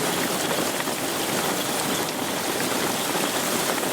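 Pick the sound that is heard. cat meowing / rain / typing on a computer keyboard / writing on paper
rain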